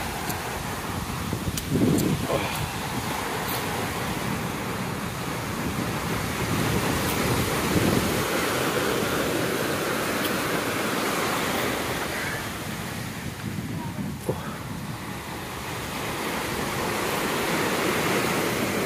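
Ocean waves wash steadily onto a beach along a coastal highway in Sarangani, Philippines, a continuous broad surf roar with wind buffeting the microphone and occasional louder swells.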